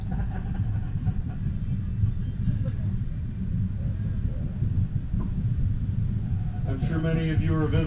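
Great big train climbing a Colorado mountainside, with a steady low rumble of cars on rails throughout; voices murmur under it and a brighter squeal or whistle-like tone rises near the end.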